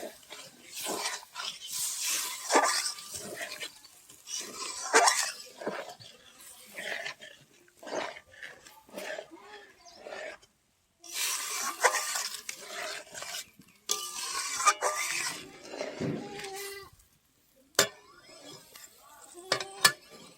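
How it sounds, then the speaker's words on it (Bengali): Mussels (jhinuk) are stirred in a kadai with water in a village kitchen, producing repeated scraping clinks and shell rattles in an uneven rhythm, close and fairly loud, while a person talks over it. "ভালো করে নেড়ে দিব।"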